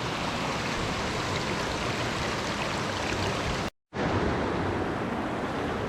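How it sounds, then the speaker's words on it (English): A rain-swollen river in Cortachy, Scotland rushes beneath an old sandstone bridge with a dense, steady roar, loud and unbroken apart from a split-second cut near the end. "I think this river also would have been a lot lower until this rain that we got this last couple of days."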